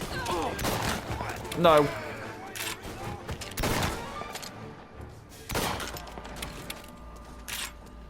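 Bursts of gunfire and crashing impacts ring out in the Mafia remake, loud and irregular against a busy game background, with a short spoken word among them.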